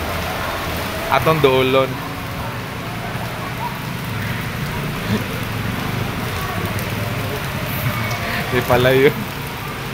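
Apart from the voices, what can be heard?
heavy rain falling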